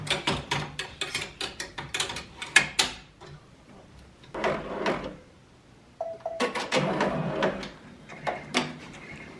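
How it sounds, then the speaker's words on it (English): Embroidery machines stitching in a small print and embroidery shop, giving rapid mechanical clattering bursts that start and stop, with a quieter gap midway, close by and with no voices. "While the machines embroider"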